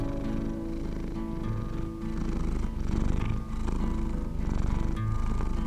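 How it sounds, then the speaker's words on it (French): A cat purrs steadily and close up, a loud continuous rumbling with a slow rhythmic pulse of breaths, with no other sounds. "des sons entre des fréquences de 20 à 50 Hz, tels que les ronrons de chat, appelés ronron-thérapie"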